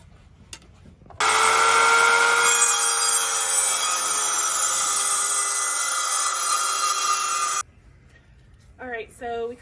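A power saw cuts through a wooden board for a raised garden bed, a loud continuous whine lasting about six seconds with a brief voice before and after.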